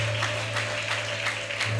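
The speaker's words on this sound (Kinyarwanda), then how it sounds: "Amashyi menshi ku mwami Imana yacu." A church congregation claps during a wedding service, producing a dense, continuous patter of applause through a steady hum in the hall.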